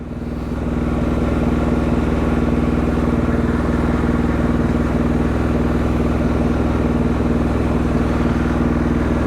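A 2016 KTM 450 XCF dirt bike idles steadily in a garage, a close, even, throbbing engine drone that holds without revving for the whole stretch.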